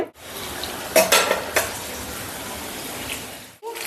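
A spoon scrapes and stirs tempered rice (tiragamata annam) in a pan, with a few distinct strokes over a steady low sizzle, close by and with no talk.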